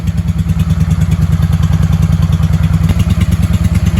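A 1995 Honda Shadow VLX 600 V-twin motorcycle engine runs nearby at a loud, lumpy idle with a fast, even thumping pulse and no talking.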